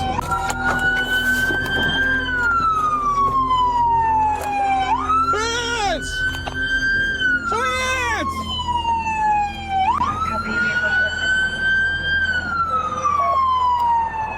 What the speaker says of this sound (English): Kill sirens, guys, kill sirens.